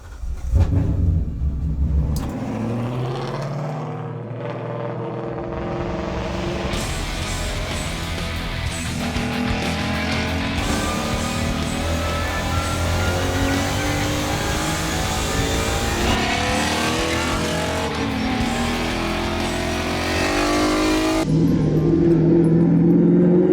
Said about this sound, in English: be prepared, Mike, for a proper race car.